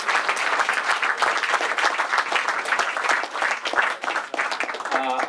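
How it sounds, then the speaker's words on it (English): A roomful of people at a club's annual dinner, the WMCB Annual Dinner 2013, bursts into loud, dense, sustained applause that carries steadily from start to finish. "a round of applause for those guys"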